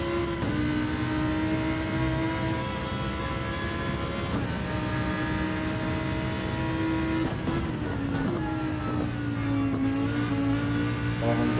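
GT race car engine heard from inside the cockpit during qualifying at Spa, a steady loud drone that rises and falls with gear changes and revving across the lap.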